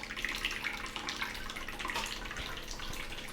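An Ecoviva Mate4 reverse osmosis purifier flushes water into a container while cleaning its internal filter. The water runs in a steady, close, moderate stream with a faint mechanical hum beneath it.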